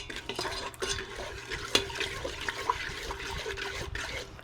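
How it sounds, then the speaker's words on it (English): A spoon stirs yeast into two cups of warm water in a bowl, giving soft repeated scraping and light clinks with gentle liquid swirling, close and fairly quiet throughout. "We're just going to give this a stir."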